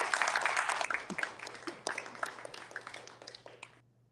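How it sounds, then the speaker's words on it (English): Conference audience at a San Diego book event applauding a speaker, a burst of clapping that starts full, then thins to scattered individual claps and fades out after about four seconds. "A round of applause."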